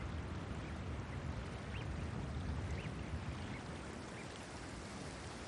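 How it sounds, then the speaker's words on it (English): Goldeneye ducks give faint, sparse calls on open winter water, barely rising above a loud, continuous rush of water and wind. "Golden-eye ducks."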